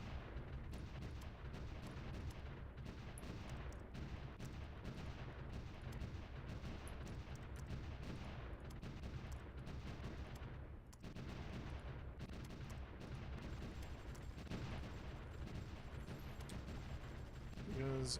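Continuous booming artillery and gunfire from a World War I strategy game, Supreme Ruler: The Great War, with dense overlapping blasts and rumbling explosions running steadily throughout at high volume.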